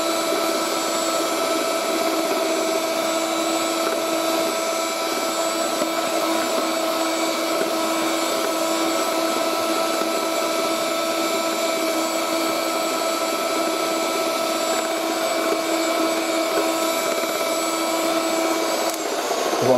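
Moulinex Type 116•2•02 electric hand whisk whipping Angel Delight dessert mix: a constant high-pitched motor whine with a steady hum and slight beater whirr, close and even for the full length, no voices.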